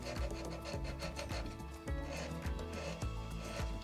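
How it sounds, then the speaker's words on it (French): A hand file rasps a solder burr off handmade 925 silver earrings, with steady rhythmic back-and-forth strokes that sound close and dry. "Donc là j'ai une petite bavure, donc je vais venir limer"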